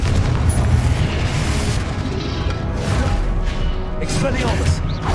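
A Confringo blast spell exploding in the video game Hogwarts Legacy: loud, rumbling booms and crashing impacts roll through a dense battle mix, with voices shouting over the top.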